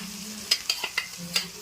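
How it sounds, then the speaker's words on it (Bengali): Onions fry with spices and dried red chillies in a home kitchen pan, a soft sizzle broken by a handful of sharp utensil clinks as they are stirred, close and brief. "পেঁয়াজটা ভাজা ভাজা হবে, তারপরে মশলা দিয়ে দেবা।"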